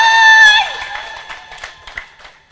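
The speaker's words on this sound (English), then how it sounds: "Let's clap for them." Wedding guests at a South Sudanese ceremony in Juba cheering and ululating for the couple, high shrill trilling cries at first, then scattered claps and crowd noise fading away.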